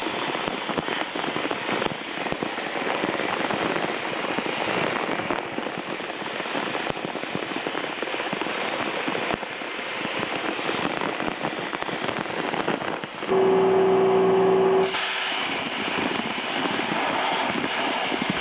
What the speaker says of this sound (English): Isn't it neat that the blast media is like erasing all the contamination and rust right down to the bare metal?